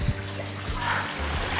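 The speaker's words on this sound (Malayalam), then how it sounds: "നമ്മൾ ഈ പോകുന്ന വഴിയെല്ലാം ഇങ്ങനെ വെള്ളം ഒഴുകിക്കൊണ്ടിരിക്കുകയാണ്" Rainwater runs down rocks beside a boulder-strewn hill path at Koonichi hills in Trivandrum, a close, steady splashing and gurgling flow like water pouring into a basin.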